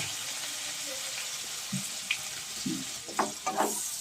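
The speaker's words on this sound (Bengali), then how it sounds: "এবারে টমেটো আর কাঁচা লঙ্কাটা সুন্দরভাবে আমি ভেজে নেব।" Chopped tomato and green chili fry in oil with cumin and a little salt, making a quiet, steady sizzle that is broken near the end by a few sharper clinks and scrapes of stirring.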